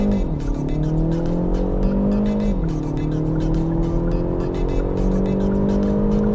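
A Kia Proceed GT launches at full throttle, its engine climbing through gears with a clear shift, while its tires squeal steadily and loudly from inside the car.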